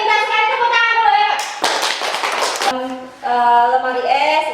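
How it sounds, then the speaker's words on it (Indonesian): A classroom of children bursts into a short round of clapping lasting about a second, framed by children's voices chanting before and after. "tepuk tangan dulu ya."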